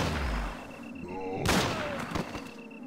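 A sharp gunshot cracks once in the zombie video game Heaven Dust, a single loud report over a low game soundscape, with a faint tonal beeping and someone talking.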